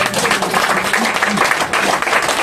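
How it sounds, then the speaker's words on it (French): Church congregation applauding and cheering for Jesus, a dense, steady wash of clapping and voices filling the room for a couple of seconds. "Est-ce qu'on peut acclamer Jésus?"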